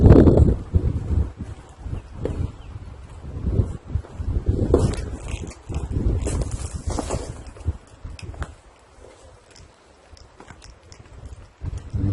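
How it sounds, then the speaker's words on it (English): Gusty wind on a hike by a pond at Burr Pond State Park, Torrington, Connecticut, buffets the microphone with a heavy, rumbling roar, dropping to a quieter hiss before picking up again. "Windy."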